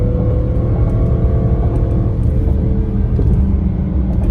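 A 2019 Jaguar F-Pace SVR accelerates up through its gears on a curvy road, a loud, deep engine rumble and whirring drone that swells and dips slightly as it pulls.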